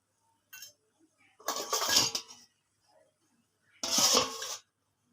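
Metal clinks and scrapes as a lid covers a cooking pot for a taro leaf dish with hilsa fish head, a faint brief tap, then two louder, longer rattling bursts with quiet gaps between.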